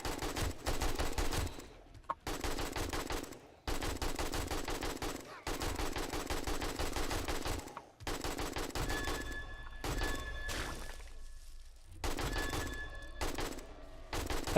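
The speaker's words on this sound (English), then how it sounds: "that wang wang noise, that's me shooting through the zombies" Rapid automatic gunfire in the survival horror game 7 Days to Die, fired into a horde of zombies, rattles in long dense bursts with short pauses, loud and continuous, with metallic ringing tones layered over later volleys.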